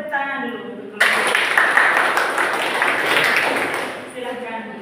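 A group in a classroom or meeting setting bursts into dense, close applause that lasts several seconds before fading back toward voices.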